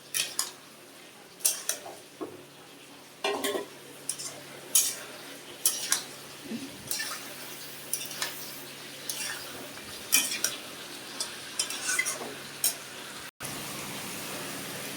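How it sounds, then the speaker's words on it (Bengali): Bori, potato and cauliflower are sautéed together in a pan, with a soft frying hiss under repeated sharp clinks and scrapes of a metal spatula against the pan, close by and without talk. "বড়ি আলু ফুলকপি আমি সব একসঙ্গে দিয়ে দিলাম একসঙ্গে কষাবো"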